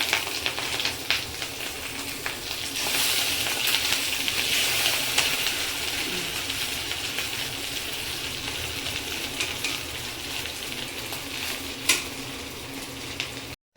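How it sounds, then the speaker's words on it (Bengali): Fish roe frying in oil in a kadai, a steady close crackling sizzle that runs throughout with light stirring clinks and a brief sharper spatter near the end. "ডিমটা এখন পুরোপুরি ভাজা হয়ে গেছে"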